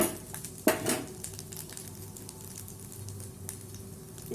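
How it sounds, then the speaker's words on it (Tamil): Urad dal and two dried red chillies fry in a pan, making a soft, steady sizzle with a louder clatter early on and light stirring scrapes throughout. "நல்லா வறுத்துட்டு 2 வரமிளகாவையும் அதிலே சேர்த்துப்போம்"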